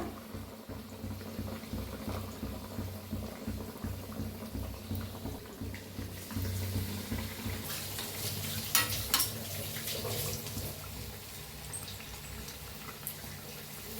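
Bread pakora fries in hot oil with a steady, close sizzle and gentle bubbling that swells and crackles a little louder partway through, with no talking.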